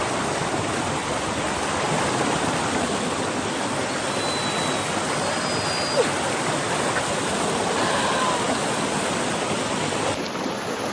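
Steady rushing of a river in Jamaica, a continuous broadband wash that stays even and fairly loud throughout, with no voices.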